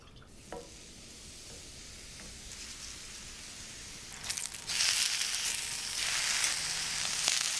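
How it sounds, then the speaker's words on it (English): Eggplant slices sizzle on a grill for a Roman sandwich, beginning with a faint crackle and a few stirring clicks, then swelling into a loud, close, steady hiss and spatter with no talking. "Grill some slices of eggplants."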